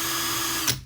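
A TACKLIFE 18V cordless hammer drill (PCD04C) spins steadily at high speed with a bright, continuous motor whine, then winds down abruptly near the end; no talking is heard.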